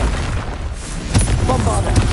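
A Confringo fire-blast spell explodes in the Hogwarts Legacy video game, a loud, deep boom swelling midway through over a dense bed of rumbling game combat noise.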